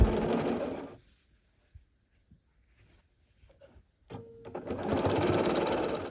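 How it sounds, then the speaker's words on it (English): A sewing machine stitches quilt half-square triangle pieces together, a brief run of close mechanical whirring between quieter handling sounds, with someone talking before and after. "we're going to sew 4 half square triangles together, just like this"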